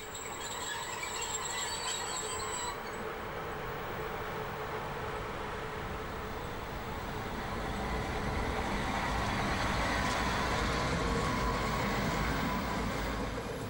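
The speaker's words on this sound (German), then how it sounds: "Auf Gleis 2 rollt der Zug nach Freiburg ein." A Class 143 electric train rolls into platform 2 at Himmelreich, a passing station on the single-track Höllentalbahn, bound for Freiburg. A steady, close rolling rumble carries a brief high whine at the start and swells louder toward the end.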